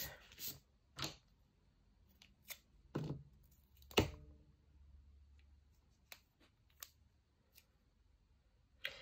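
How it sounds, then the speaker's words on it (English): Small crafting scissors snipping double-sided sticky tape in a quiet room: a scattering of sharp, separate cuts and clicks with pauses between them, close by. "tiny crafting scissors weren't the best idea"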